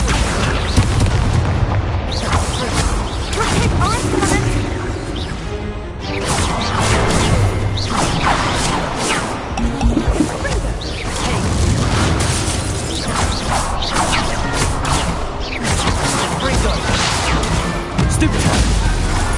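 Spell effects from the video game Hogwarts Legacy fire off one after another as loud booms, crashes and whooshes in a dense, continuous barrage of combat sound.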